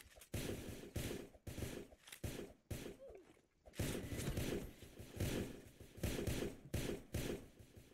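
Gunshots in a multiplayer shooter, a run of loud regular bursts with short gaps between them, heard alone with no talk.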